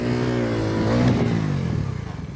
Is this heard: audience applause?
no